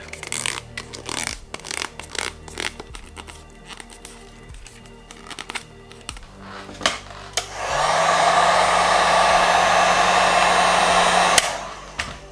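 Crinkling and handling of vinyl wrap being tucked around knifeless tape on a Tesla Model 3 chrome delete gives way to a heat gun, a steady loud blowing whir lasting several seconds before cutting off.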